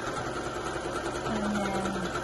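Sewing machine back stitching a few stitches on an apron pocket, a close, steady mechanical whirr with a faint rhythmic hum throughout the short burst, no speech.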